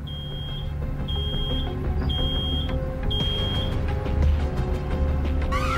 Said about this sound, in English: Oh no, something's beeping.